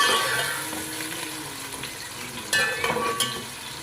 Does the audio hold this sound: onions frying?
yes